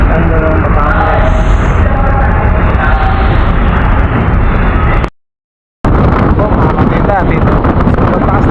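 Heavy wind noise batters the microphone over churning high waves and boat engine rumble at sea during a typhoon between Batangas and Mindoro, cut by a brief moment of silence before the roar resumes.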